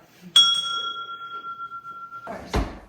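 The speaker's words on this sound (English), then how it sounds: "Mel, ring the bell so everybody can come." A bell rung to call a family to Sunday lunch gives one clear struck ding that hangs as a long, steady ringing tone for nearly two seconds, then stops abruptly before a brief burst of nearby noise.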